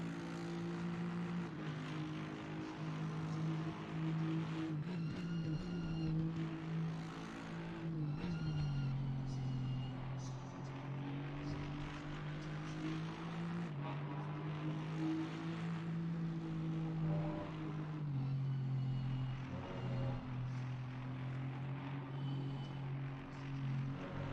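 Aston Martin Vantage GT race car engine in Assetto Corsa Competizione, a steady droning tone that rises and falls with throttle and gear changes through the lap, heard beneath a speaking voice.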